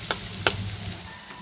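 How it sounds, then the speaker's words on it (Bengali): Potatoes frying in a pan, a steady low sizzle with a couple of brief stirring scrapes near the start, close and moderately quiet, no voices. "আলুটা অলমোস্ট ভাজা হয়ে গেছে, আর একটু ভাজা হোক"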